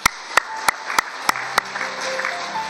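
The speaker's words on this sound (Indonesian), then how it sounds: "tepuk tangan buat Tuhan Yesus." Church congregation clapping during a worship service, with sharp rhythmic claps spaced about every third of a second, then softer scattered clapping under faint sustained tones.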